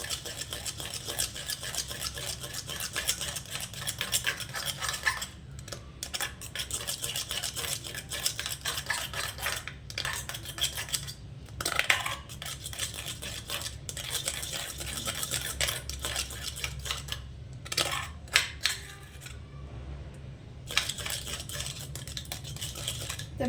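Homemade winter moisturizer ingredients are stirred by hand in a bowl, giving continuous scraping and clinking with brief pauses, close up and with no one speaking.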